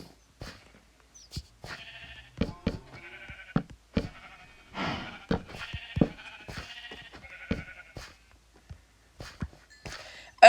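Sheep in Minecraft give short, scattered bleats with gaps between them, mixed with faint clicks and taps from gameplay, and no clear talk.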